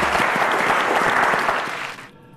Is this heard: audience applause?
yes